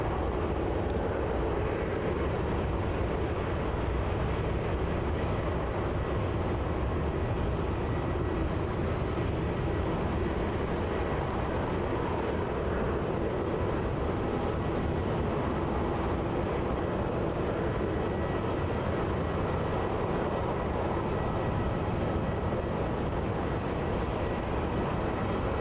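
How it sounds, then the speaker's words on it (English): A Philippine Airlines A330 on final approach at Melbourne Airport, a steady continuous roar of jet engines with wind noise, constant and fairly loud throughout. "A330 on final there"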